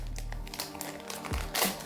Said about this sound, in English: You can use the scissors instead of your teeth when you're opening your packets.